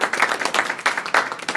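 A room of people at a homeowners association meeting clapping in quick, irregular bursts, a brief round of applause at moderate loudness.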